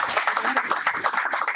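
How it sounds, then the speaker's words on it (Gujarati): An audience at a Gujarati stage event honouring a performer gives a brief burst of applause, with dense clapping heard up close and filling the whole moment. "મિત્રો, આપણે તાળીઓના ગડગડાટથી વધાવીશું."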